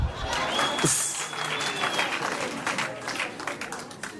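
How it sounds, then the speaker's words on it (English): Audience at a university archival collection launch claps steadily throughout, a dense sustained round of applause with some faint voices mixed in. "Can you please clap again?"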